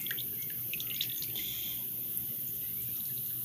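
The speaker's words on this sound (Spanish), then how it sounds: "a medida que usted le va sacando el suero, miren esa agüita que sale." Whey trickles and drips from homemade cheese curd squeezed by hand, faint, close, irregular splashes of liquid over a quiet background.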